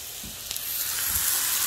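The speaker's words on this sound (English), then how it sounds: "Keep stirring" Lasagna filling sizzling and frying in a pan as it is stirred, a steady close hiss that rises slightly throughout, with faint scraping at moments.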